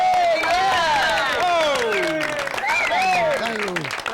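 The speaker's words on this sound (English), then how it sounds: "a round of applause for Tom Pano" A comedy club crowd applauds and cheers for a comedian at a midnight show, with loud clapping running under excited shouting voices.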